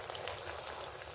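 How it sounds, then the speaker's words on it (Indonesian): Pempek lenjer, Palembang fish cakes, frying in hot oil with a soft continuous bubbling crackle and scattered small pops, faint and close, with no voices. "pastikan sisi depan dan bawahnya itu tergoreng semua"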